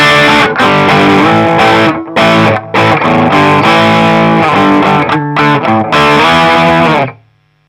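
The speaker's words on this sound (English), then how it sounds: "you get rid of all that distortion" A loud, heavily distorted electric guitar plays a choppy riff of sustained power chords broken by short silent stops, ending in a ringing chord that cuts off abruptly.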